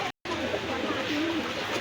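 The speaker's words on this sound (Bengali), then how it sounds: "এই এক পেয়ার টেডির কবুতর ছাড়তেছি" A pair of Omani teddy pigeons gives a brief, soft coo amid a noisy outdoor background at a pigeon fair.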